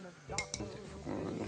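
A child's metal spoon clinks twice against dishes, two bright quick taps followed by faint clattering and a soft voice in the background.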